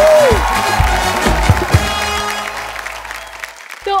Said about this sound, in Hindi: एक बार जोरदार तालियां मोनालिसा के लिए।